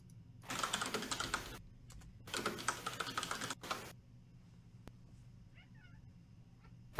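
A house cat meows a few times, faint and close, right after two bursts of computer keyboard typing.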